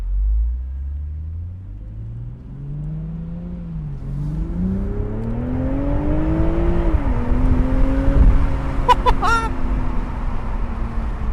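A BMW Z4 M40i with 340 horsepower revs up through rising engine notes, the deep exhaust growling louder and closer, then crackles with a brief burst of sharp pops near the end.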